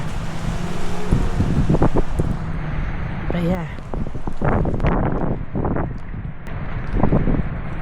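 Strong storm wind of Storm Eowyn in a Scottish town roars and gusts steadily through a vent, with someone talking over it for most of the stretch.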